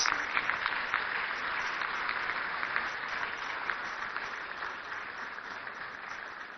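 Sustained applause from a large audience at a national economic dialogue in a conference hall, steady and dense throughout without talk.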